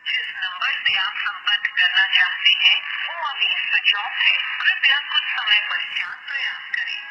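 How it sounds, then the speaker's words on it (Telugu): A recorded switched-off caller tune plays through a mobile phone, a narrow-band, telephone-quality voice message that runs steadily at moderate loudness. "మీకు ఇట్లాంటి ఒక కాలర్ ట్యూన్ వస్తుంది"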